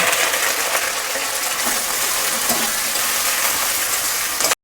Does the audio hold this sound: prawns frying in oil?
yes